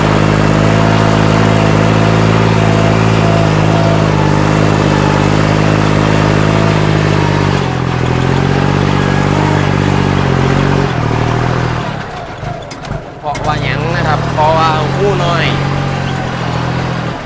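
The engine of a rotary tiller runs steadily at close range with a loud, even drone that drops slightly partway through. Near the end it fades and someone talks over the quieter running.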